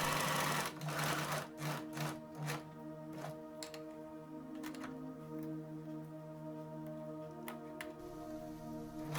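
A sewing machine overcasts the halves of an inner side pocket lining, running in steady mechanical bursts with short pauses and restarts, close and clear with no talking.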